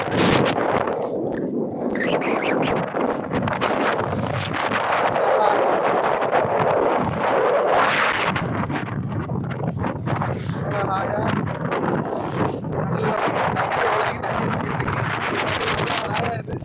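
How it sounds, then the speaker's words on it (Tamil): Strong wind buffets a fishing boat out at sea in the Bay of Bengal, a steady loud roar of gusts and microphone buffeting with sea and hull noise, with someone talking over it throughout. "சரியான காற்றுங்க"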